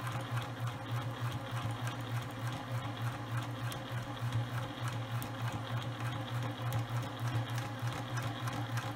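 A sewing machine stitches a zipper tote bag with a steady, low mechanical hum and a faint rapid needle rhythm running unbroken and close, with no voices.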